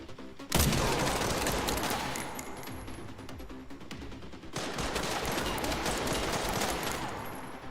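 Rifle fire in the Resident Evil Requiem survival-horror game, starting with a sharp loud report and continuing as dense overlapping gunfire and reverberant clatter, with a second burst midway.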